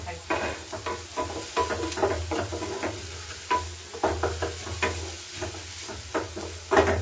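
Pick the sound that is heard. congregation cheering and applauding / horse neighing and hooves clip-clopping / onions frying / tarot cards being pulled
onions frying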